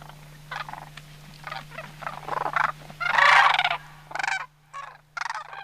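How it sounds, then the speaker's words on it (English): Cranes calling as they muster before departing for the evening roost: a series of loud, rattling, trumpeting bursts in irregular clusters, close by, over a steady low hum. "he musters for takeoff, like the rest of the cranes as they prepare to depart for the roost"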